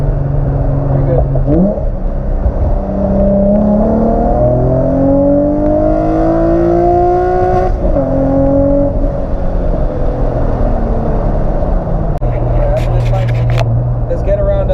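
A Nissan G35 fitted with GTR injectors revs hard, engine pitch sweeping up and down through repeated loud rises before settling at a steady hold, close and dominant with voices talking over it.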